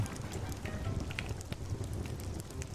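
Steady rain patter in a video game, a dense continuous hiss of drops with a low rumble underneath, holding at an even level throughout with no voices.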